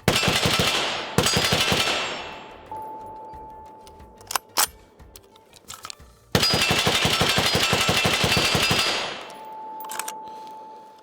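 Rifle firing PMC 55 grain ammunition, with two long, loud rapid bursts separated by a pause of scattered metallic clanks and single shots, then fading to a faint ringing tone.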